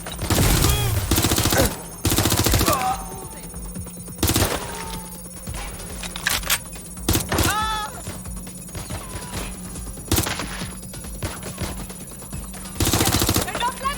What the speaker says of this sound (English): Taking fire! Taking fire! Fighting suppressing fire!